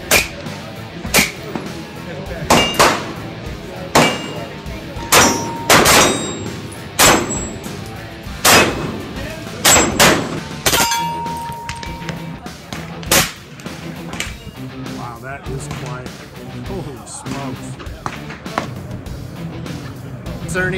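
Repeated gunshots and ringing clangs on steel targets at a busy multi-lane Sig Sauer range day during SHOT Show, sharp cracks spaced every second or two, some loud and near, others echoing from neighboring lanes.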